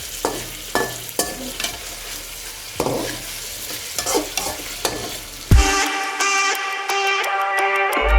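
Chicken for biryani frying in a pan is stirred in repeated scraping strokes over a constant sizzle, then a sudden louder surge of hissing takes over and holds to the end.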